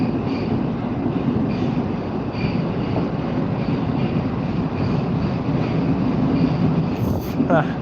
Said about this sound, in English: But it is an old train.